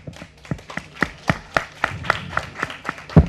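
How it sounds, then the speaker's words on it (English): Hands clap at a presentation in a steady, evenly spaced rhythm, about four sharp claps per second, close and distinct, ending with a louder clap. "I don't like this, what is it, clapping"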